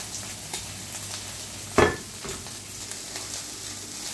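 Pork meatballs browning in a double-bottomed pan give a steady low sizzle and frying hiss, with one brief louder spatter or stir partway through, heard close with no talk.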